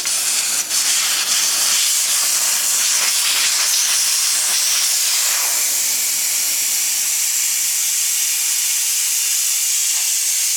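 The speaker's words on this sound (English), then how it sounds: "All the air's out now, tyre's nice and flat." Air rushes loudly and steadily out of a tyre through its open Schrader valve with the core removed, a continuous close hiss that holds for about ten seconds without talk.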